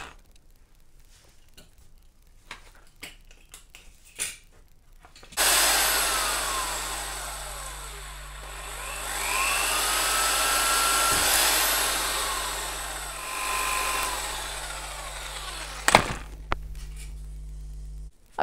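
Holes drilled through a sketchbook cover for a ring-bound watercolour book: a power drill whirs loudly and steadily for about thirteen seconds, its pitch shifting as it bites, after quiet handling noises and ending with clunks.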